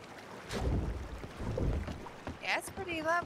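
Boat gliding on water in Red Dead Redemption 2 roleplay, soft washing and splashing with gusts of wind noise, fairly faint, with a voice speaking briefly near the end.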